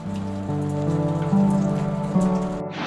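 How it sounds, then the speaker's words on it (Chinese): Meltwater drips from an old hospital roof in Yubari, Japan, after a day of rain and snow, giving a soft, steady patter over a low hum, with nobody talking. "然后这边滴的水滴哦，"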